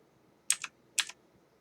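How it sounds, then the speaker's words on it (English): Two quick, crisp clicks of the down arrow key on a computer keyboard, about half a second apart, close and clear against near silence. "if I use the down arrow on the keyboard, that lets me move it just a tiny bit"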